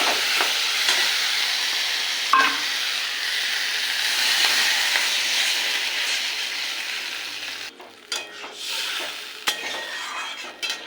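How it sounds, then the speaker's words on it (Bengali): Sautéed spices for a fish curry hiss and sizzle steadily in a pan as water is poured in, a moderately loud bubbling crackle with occasional clinks and stirring scrapes toward the end, no talking. "মশলা কষে এসছে, এবার দিয়ে দেবো জল।"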